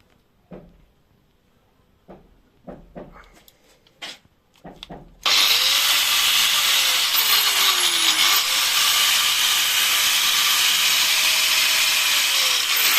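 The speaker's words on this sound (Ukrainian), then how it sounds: "болгарку Дніпроемовську 980 Вт" A few sharp knocks and clatters, then a 980-watt Dnipro-M angle grinder switches on and runs loud and steady, its high whine dipping briefly under load.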